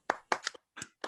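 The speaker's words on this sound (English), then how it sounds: "if everybody at the meeting wants to just give a big applause to the Photographic Society of Taipei" A few separate hand claps at a photography awards ceremony, four or five sharp, close claps with brief silences between them, sparse rather than a full audience ovation.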